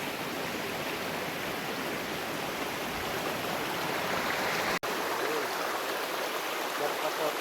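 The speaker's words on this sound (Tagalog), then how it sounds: "Dito tayo sa ilog, tapos ilogan." River water rushes steadily in a dense, hissing flow, close and continuous, with a brief dropout midway.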